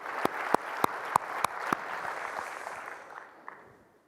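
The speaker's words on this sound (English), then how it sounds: "A big round of applause for each of you." A small audience at a corporate talk gives a short round of applause, a few sharp distinct claps up front then a thinner patter that fades out within a few seconds.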